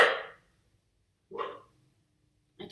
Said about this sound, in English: so that was my dog barking because the neighbors went on the corridor